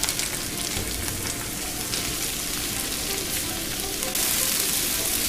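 Mushrooms sizzle steadily in a hot frying pan as they are stirred and shaken, a dense close crackle that holds throughout and swells slightly near the end.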